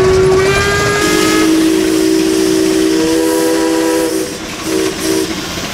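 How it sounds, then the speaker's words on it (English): Steam engine whistle sounding at a steam threshing show, a loud sustained cry with slightly shifting pitch that carries for several seconds over a busy hiss and rumble of machinery, easing off near the end. "the cry of steam whistles"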